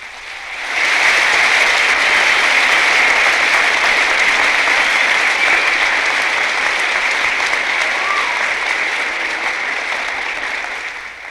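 A large campaign audience at a 1968 Robert F. Kennedy rally in Oregon breaks into sustained applause, a dense, steady wash of clapping that holds for about ten seconds before easing off slightly.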